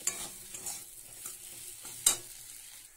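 Spiced potato filling is stirred in a pan during cooking. Soft scraping strokes sound over a quiet background, with one sharper clink of the spatula partway through.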